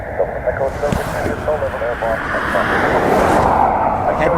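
An Aer Lingus airliner in rugby livery rumbles past at Dublin Airport, a steady engine roar that builds toward the end, with someone talking over it.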